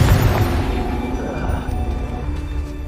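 Confringo fire spell blast in the Hogwarts Legacy video game, a deep booming explosion at the start that fades into rumbling debris and low ambient noise.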